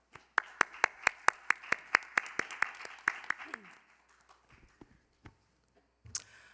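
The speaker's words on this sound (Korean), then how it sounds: "주홍비 참가자의 연설을 박수로 들어보겠습니다." An audience at a youth speech contest claps in unison to welcome the next speaker, a run of loud, evenly spaced claps that loosens into scattered clapping and fades, with brief noises near the end.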